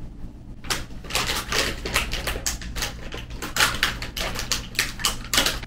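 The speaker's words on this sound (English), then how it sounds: "I'm gonna go ahead and sew it though," A ripped top is stitched, likely on a sewing machine, with a steady, close, rhythmic mechanical clatter of rapid repeated strikes over a constant low hum, and no talking.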